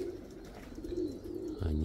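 Soft cooing from a flock of about a hundred white pigeons, low repeated coos against a steady outdoor background hum, ending with a louder thump.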